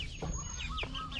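Free-roaming farm chickens shaded under a tent give a few soft, brief clucks and chirps, quiet and close, over a low background rumble.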